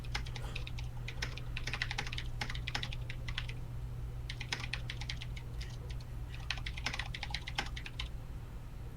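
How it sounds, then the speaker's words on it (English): Quick bursts of clattering computer-keyboard keystrokes arrive in several runs separated by short pauses, soft and close over a constant low electrical hum. "Furious typing."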